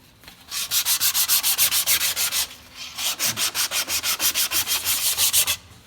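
Hand sanding of a guitar neck with coarse 100-grit paper, a close, loud rhythmic rasp of quick back-and-forth strokes in two runs separated by a brief pause.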